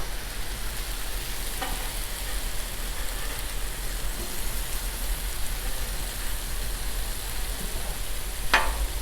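Kababs sizzle on a Blackstone griddle in a steady, close frying hiss. A faint scrape sounds near the start and a sharper one near the end.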